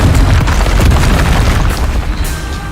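A loud Confringo blast spell erupts in Hogwarts Legacy, a heavy booming explosion with a dense low rumble that sustains for a few seconds before easing off slightly.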